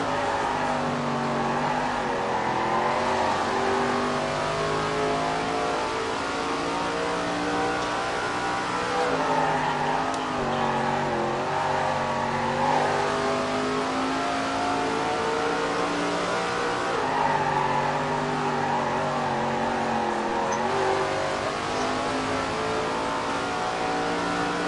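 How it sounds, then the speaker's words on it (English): Race car engines revving hard lap after lap in a PS4 racing game, a continuous loud whine that rises and falls in pitch with shifting and acceleration, steady and without talk. "Lap after lap, these drivers are really pushing their car to the limit."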